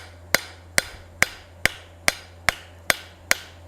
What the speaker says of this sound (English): I'm going to aim out my hammer blows.